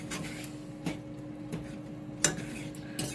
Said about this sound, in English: Stir it in really good